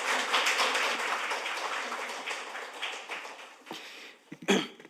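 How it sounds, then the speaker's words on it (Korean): Crowd applause at a National Assembly briefing for reporters and aides in Korea, a sustained broad patter of many hands clapping through the room that tapers off near the end, with a few louder thumps as it fades. "여러분 큰 박수로 맞아주시기 바랍니다"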